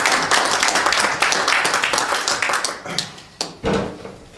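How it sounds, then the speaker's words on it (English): An audience gives a round of applause, brisk close clapping that stays busy for a few seconds, then thins into scattered individual claps and trails off. "Everyone will give you a round of applause."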